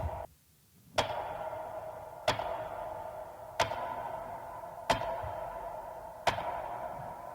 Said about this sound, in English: So these are metronome clicks.